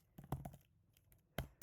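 Sparse keystrokes on a computer keyboard while entering a value in SwiftUI code, a few quick clicks in two brief bursts separated by a pause, close and fairly quiet.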